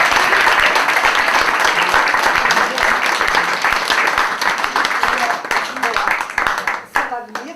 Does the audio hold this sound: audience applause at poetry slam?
yes